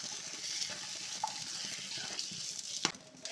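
Raisins and cashews fried in ghee are stirred into kashi halwa in a pan, giving a soft continuous sizzle with occasional scraping stirs and small clinks, close and fairly quiet, with no talk.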